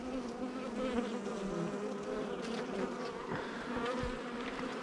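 Honey bees buzz around an opened hive frame holding eggs and pollen, a dense, continuous close drone with steady intensity and no talking.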